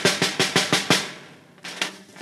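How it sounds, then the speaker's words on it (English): A snare drum with its strainer wires down is tapped lightly, giving six quick, buzzy, rattling taps in an even rhythm, a short pause, then two more, close and fairly quiet. "Otherwise, if I leave them down and I tap it, this is what it's going to sound like."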